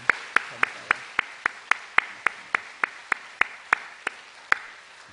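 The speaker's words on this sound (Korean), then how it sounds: "우리 박수 한번 격려하겠습니다" Church congregation clapping to encourage teachers and a pastor after a summer program: about eighteen sharp, evenly spaced claps in a steady beat, fairly close and moderately loud, with no talking over them.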